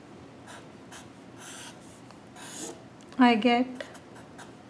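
Someone writes out a long division by hand, with soft scratching pen or marker strokes in short bursts, and a voice speaks briefly partway through.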